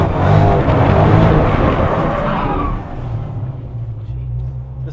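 A Ford F100 truck with a swapped GT500 engine doing controlled donuts, its engine roaring loud and close with tire rush, then easing back to a low idle rumble in the last seconds.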